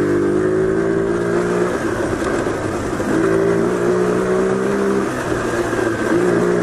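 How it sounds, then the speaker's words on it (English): A Trail 70 CT70-clone minibike engine strains up a steep off-road hill, its loud, steady drone holding near with rising and falling pitch as it labors under load. "I'm on a monster hill right now, and my bike is taking it"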